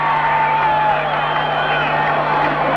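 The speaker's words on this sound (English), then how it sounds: "The crowd back in the ballgame." Crowd at a Colts versus Raiders football game in a stadium, a loud, steady roar of cheering and whooping with no breaks, and a commentator's voice faint within the din.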